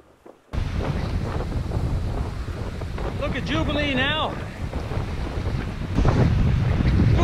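Strong gale on a wild North Atlantic island coast, loud gusting wind buffeting the microphone with surf behind, while people speak briefly under the roar.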